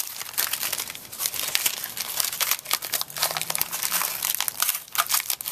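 Plastic wrapping peeled off a plastic bottle being prepped for a sci-fi prop, giving a loud, continuous close-up crinkling and crackling with sharp tearing bursts throughout, no voices.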